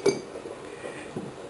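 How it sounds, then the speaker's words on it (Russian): Cucumbers and tomatoes placed into a glass jar for pickling, giving a sharp glassy clink at the start followed by a few soft knocks and bumps close by. "Далее наполняю банку содержимым."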